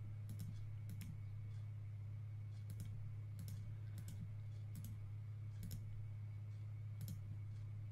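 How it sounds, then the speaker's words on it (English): Crisp computer mouse clicks while making a polygonal lasso selection around a tomato in Photoshop, irregular single and double clicks spaced across the span over a steady low electrical hum. "And I can just start clicking around this tomato."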